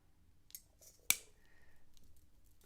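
Wire being snipped for a macrame Christmas wreath, one sharp close cutting snap standing out after a softer click, then quiet handling rustle in a still room.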